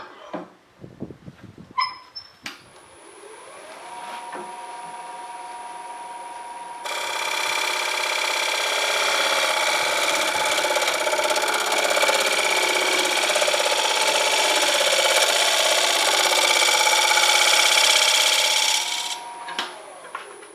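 A wood lathe turns a cottonwood plate: after a few knocks, the motor whines steadily, then a tool bites in and a loud, sustained cutting roar fills most of the clip before stopping.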